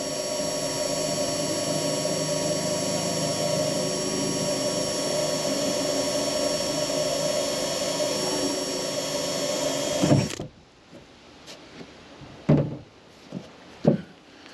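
Power drill boring a pilot hole for a MaxxFan in a Ford Transit camper van roof, a loud steady whine for about ten seconds that stops abruptly, followed by a few clunks and handling noises.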